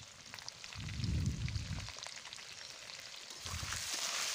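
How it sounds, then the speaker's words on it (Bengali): Potatoes fry in hot oil in a wok, a soft steady sizzle with two louder bursts of crackling and stirring, close by and without talk. "তেলটা কড়াইতে দিয়ে তেলটা ভালো করে গরম করে আমি আলুগুলোকে ভালো করে ভেজে নিচ্ছি"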